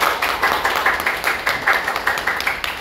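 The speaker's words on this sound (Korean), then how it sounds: "박수 한번 쳐요" A church congregation claps together after a closing prayer, steady rhythmic hand claps filling a mid-sized room at moderate loudness with no talking over them.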